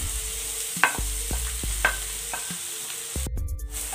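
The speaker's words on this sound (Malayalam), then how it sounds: "നമുക്കിനി ക്യാരറ്റ് ഒരു 8 മുതൽ 10 മിനിറ്റ് വരെ നന്നായിട്ടൊന്ന് വഴറ്റിയെടുക്കാം ഈ നെയ്യിൽ" Grated carrot and dry fruits sautéing in ghee for carrot kheer, a steady close sizzle with repeated scraping stirs of a spoon against the pan, no voices.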